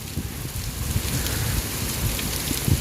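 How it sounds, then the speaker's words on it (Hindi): Heavy rain pours steadily onto a rural yard where stacked dung cakes are getting soaked, a dense continuous hiss with scattered heavier drops and low rumbles throughout, no voices. "कितनी तेज़ है देखें माशाल्लाह बारिश"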